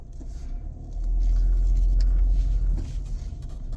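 A 2017 Ford Edge driving on the road, a steady low engine and tyre rumble from inside the cabin that swells louder in the middle and then eases back, no talking.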